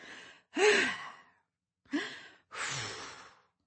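A narrator imitates blowing breath hard, producing three forceful exhaled puffs with a voiced sighing tone, close and isolated between short silences.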